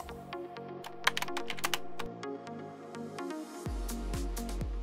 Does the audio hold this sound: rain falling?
no